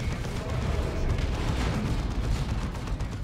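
A lascannon shot rings out during a Space Marines battle in Warhammer 40,000: Dawn of War 2, a dense, continuous roar of heavy gunfire and booming blasts filling the whole stretch at steady loudness.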